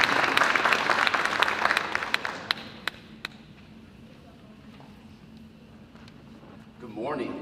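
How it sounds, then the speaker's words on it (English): Applause for an arriving official at the opening of a conference, a dense burst of clapping from a crowd that thins into scattered claps and fades to quiet murmur, with a voice coming in at the end. "Let's give him a big hand of applause as he comes to greet us."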